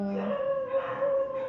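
A dog howls in one long, sustained, wavering tone from outdoors, moderately loud and alone, over faint background hum.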